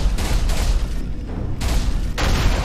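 Laser weapon shots from the sci-fi shooter game Alien Rage, firing in several loud bursts separated by short gaps, each burst a dense crackling blast over a heavy low rumble.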